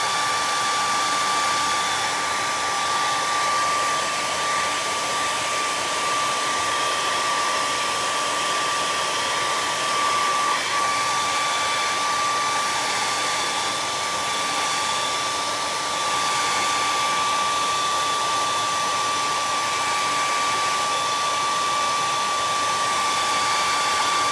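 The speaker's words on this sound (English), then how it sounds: "I'm going to hit it with a blow dryer." A hair dryer blows steadily with a constant airy whoosh and a thin high whine, close and continuous throughout, with no voices.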